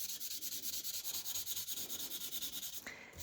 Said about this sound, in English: just take the sandpaper and I'm going to lightly sand the image,